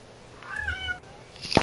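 A pet cat gives a couple of clear, close meows, the first a drawn-out tonal call, in a quiet room with a short burst of louder noise near the end.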